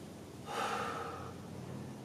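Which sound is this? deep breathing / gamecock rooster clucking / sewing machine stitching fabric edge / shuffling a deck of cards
deep breathing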